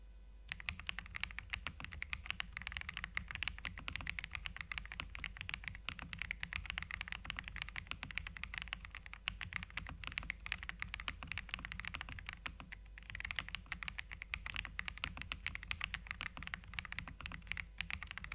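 Someone types steadily on a TKL mechanical keyboard packed with five layers of foam. Rapid, soft, muted keystrokes run continuously and close up, with no talking.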